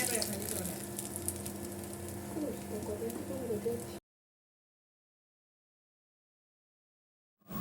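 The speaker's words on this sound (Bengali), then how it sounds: "মাছগুলো ভাজতে দিয়ে দিলাম" Fish frying in a pan, a steady dense sizzle lasting about four seconds with some background hum and faint bird calls, then cutting to silence before a brief return at the end.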